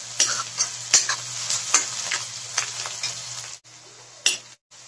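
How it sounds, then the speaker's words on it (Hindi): Finely chopped onions fry in a pan for a spicy chickpea curry, a steady sizzle broken by repeated scrapes and clinks of a spoon stirring against the pan, with a brief pause near the end. "अब इसमें हम डालेंगे बारीक कटी हुई प्याज, गोल्डन होने तक इसको भूनेंगे।"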